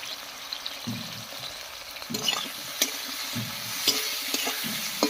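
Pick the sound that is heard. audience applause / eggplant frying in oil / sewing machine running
eggplant frying in oil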